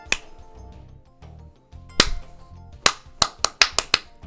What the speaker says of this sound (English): You could not see me clapping, probably.